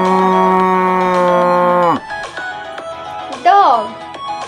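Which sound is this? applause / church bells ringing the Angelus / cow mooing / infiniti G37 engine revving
cow mooing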